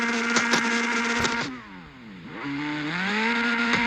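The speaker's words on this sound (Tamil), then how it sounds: "அந்த காரோட இன்ஜின் சத்தம் கேளுங்க." A car engine hums steadily, dips as it slows, then rises again in a smooth rev, with a few clicks and clatters early on.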